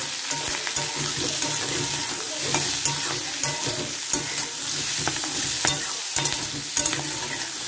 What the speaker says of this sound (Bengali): দেখুন আমার এই সবগুলো সবজিতে ভেজে নেবেন।